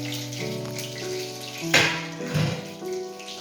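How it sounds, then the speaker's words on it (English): Water pours into a pan of soy and tomato sauce for chicken kofta Manchurian in a home kitchen, a short close splash and trickle. "add a little water,"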